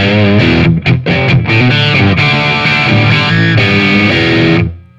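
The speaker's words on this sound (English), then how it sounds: "Now let's try a dirty sound. Here's the amp without the Fuzzfather engaged." An electric guitar plays a short riff straight into an overdriven, dirty amp with no fuzz pedal, loud, close and gritty, with quick choppy chords before a sustained ring fades out at the end.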